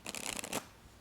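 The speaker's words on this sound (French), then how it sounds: "Je retourne ces cartes et je les mélange ici." Playing cards are riffled together in a quick, close burst of crisp fluttering that lasts about half a second and then stops, with no voice.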